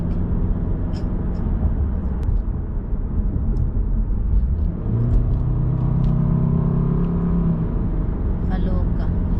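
Steady low rumble of a car moving slowly through heavy traffic, with engine and road noise throughout and a faint passing whoosh. Voices talk over the road noise.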